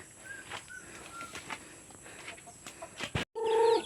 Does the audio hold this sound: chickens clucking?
yes